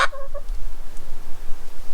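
A chicken gives a short burst of close, loud clucks right at the start, then only faint background hum remains.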